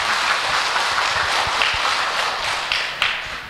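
Audience applause for two Buddhist nuns or lay singers at a Phước An temple dharma talk, a dense, steady wash of many hands clapping close by with a few sharper claps near the end, no talking.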